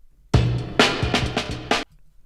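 A short sampled drum break: a burst of kick and snare hits with bright cymbal wash, several strong accents over about a second and a half, loud and alone.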